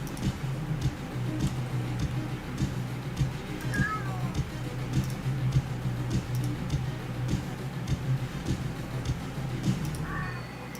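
A cat meows twice in short rising calls, faint and a few seconds apart, over a steady low hum and soft background clicks, with no talking.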